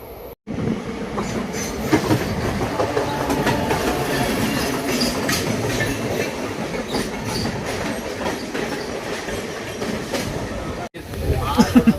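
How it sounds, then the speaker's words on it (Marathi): A passenger train leaving Thane runs steadily along the tracks, giving a continuous loud rumble with rhythmic clickety-clack and occasional wheel squeal. The roar cuts out briefly near the end. "ठाण्यावरनं जर ट्रेन आपली निघालेली आहे"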